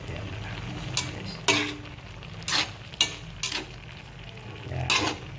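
Onion and garlic sauté in a pan, a soft frying sizzle broken by several scraping stirs of a spoon against the pan at irregular intervals, close and fairly quiet.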